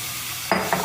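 Meat goes into an already seared pan and starts frying, with a sudden sizzle that begins partway through, a brief pause, and then a second burst of sizzling, heard up close with no talking.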